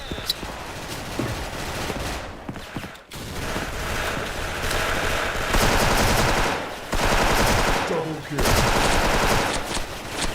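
An M4A1 Classic rifle firing in the video game Special Force, with long, loud bursts of automatic fire broken by brief pauses.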